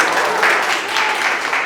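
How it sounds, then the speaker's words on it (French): Audience applause at a Miss Togo France Diaspora event, a short dense burst of clapping from a room full of people, steady and fairly loud. "On peut vous applaudir."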